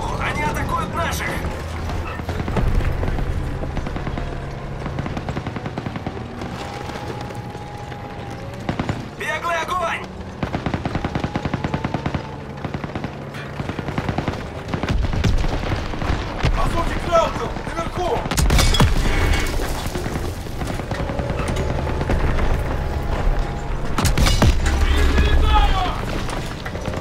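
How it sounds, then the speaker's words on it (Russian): Gunfire and battle noise from the World War II shooter Call of Duty: WW2, with bursts of shots, mechanical clatter and explosions mixed under shouted voices and music throughout. "Слышу стрельбу."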